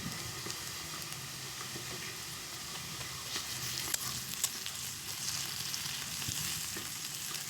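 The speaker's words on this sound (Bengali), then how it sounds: "মশলাটাকে বেশ ভালোভাবে ভেজে নিতে হবে যাতে আদা রসুনের কোনো কাঁচা গন্ধ না থাকে।" Ginger and garlic paste fries in hot oil with a soft, continuous sizzle and crackle. Faint occasional taps of a stirring spoon come through, and no one speaks.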